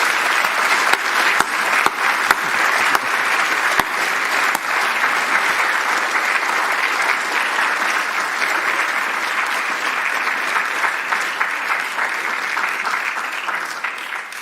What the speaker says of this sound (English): could I ask you please to give Mr. Hobbs a very warm round of applause for the outstanding deed